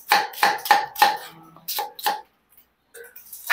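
A knife chops an onion on a board in a quick run of sharp, close thuds that pauses, picks up again for two more strokes, then ends in a brief quiet before a last chop.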